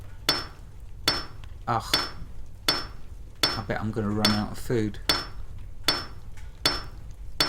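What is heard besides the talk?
hammering iron bloom at forge, video game Salem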